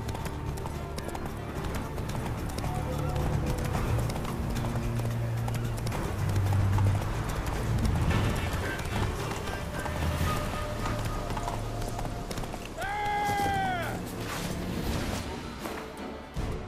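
Roach the horse gallops in The Witcher 3, hooves clip-clopping in a rapid, steady rhythm close by, joined near the end by a short rising whinny-like call.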